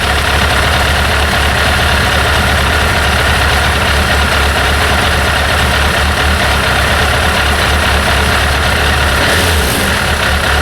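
A Yamaha GTS 1000 motorcycle engine idling close up during a throttle body synchronization, a loud, steady low rumble with a faint rough beat that runs unbroken throughout.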